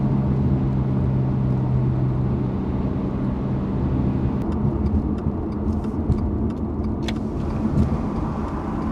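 A Toyota GR86 with a GReddy Supreme SP exhaust drones steadily in fifth gear at 70 mph, about 4,100 RPM, a continuous low exhaust rumble with road and wind noise throughout, fairly loud and close.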